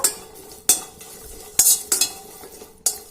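Red chillies frying in a pan for chutney, a low steady sizzle broken by several sharp clinks and scrapes of a spoon stirring against the metal pan.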